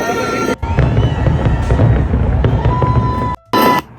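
A Seattle fireworks display watched from a restaurant directly across the street produces loud, continuous crackling and rumbling bursts, broken by a couple of abrupt cuts.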